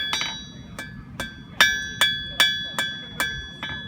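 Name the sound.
hammer forging steel chisel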